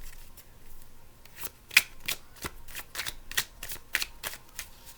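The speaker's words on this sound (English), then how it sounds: "I'm going to try to get one more card." Tarot cards are shuffled in a steady run of crisp riffling and slapping bursts, close and fairly loud, with no voices over them.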